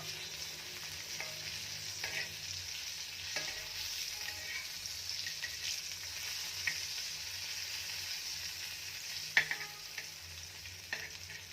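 Okra (ladyfinger) roasts on a tava, a faint, steady sizzle with soft scraping and stirring taps as the pieces are flipped over.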